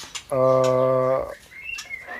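A murai batu (white-rumped shama) at a breeding farm housed in a luxury home gives one loud, sustained tonal whistle lasting about a second, followed by fainter chirps in the background.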